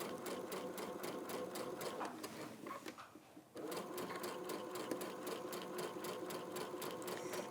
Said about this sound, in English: just stitching down the sashing and the frame, this block at a slow and steady pace